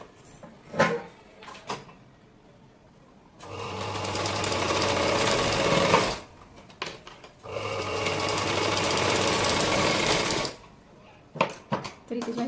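A sewing machine stitches a hook strip on a blouse in two steady whirring runs of about three seconds each, close and fairly loud. Small handling clicks and rustles come before, between and after the runs.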